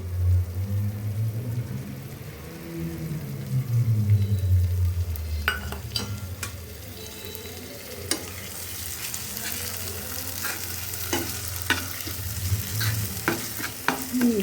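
Masala paste of ground nutmeg, mace, raisins and poppy seed sizzling and being stirred in a pan for Bangladeshi-style chicken roast, a steady close fry with low rumbling and scattered sharp scrapes and clicks of the spoon, no voices.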